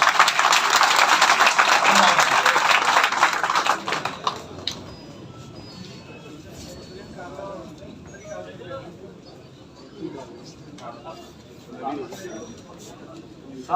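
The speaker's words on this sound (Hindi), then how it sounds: "आपकी तालियां बताएंगी कि हम कितना इनके साथ हैं।" An audience at a retailers' rally bursts into loud, dense applause for about four seconds, then it cuts off and quieter murmuring and talk follow.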